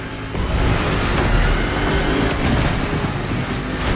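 A vehicle driving down a river in The Crew Motorfest game, a steady loud rush of churning water and wind noise that holds without a break.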